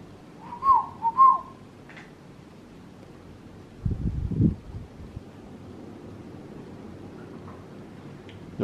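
A few short whistled notes near the start, then a low rumbling thump and long stretches of quiet room noise inside the abandoned Denbigh Asylum.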